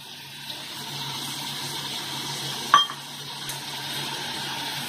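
Water poured from a tap into ground coriander, cumin and red chilli powder for a Bengali steamed egg curry, a steady near trickling rush with one sharp clink of a utensil partway through.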